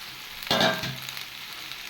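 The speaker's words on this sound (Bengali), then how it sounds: "এবার কিন্তু আমি ভেজে রাখা এই সবজিগুলো দিয়ে দেবো একসাথেই দিয়ে দেবো দিয়ে ভালো করে মিশিয়ে নেবো" Lote fish fries together with vegetables in a pan, giving a steady sizzle that swells as a sudden scrape and clatter of stirring hits the pan, then settles back to a softer hiss.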